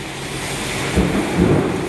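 Low thunder rumbles roll in twice amid steady wind or rain noise during a sudden summer rainstorm, swelling briefly near the middle and again toward the end.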